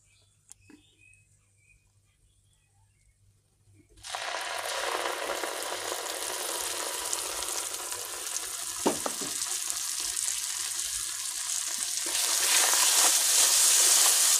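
After a few seconds of near silence a dense sizzle starts as a paste of coconut, cashew, poppy seed and green chilli hits the hot pan, then holds loud and close with an occasional stir.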